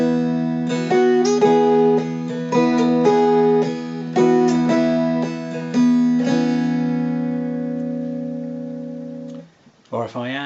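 A mountain dulcimer plays The Blackest Crow straight through, with clear plucked notes over a steady ringing drone that sustains and fades near the end, followed by a brief handling noise.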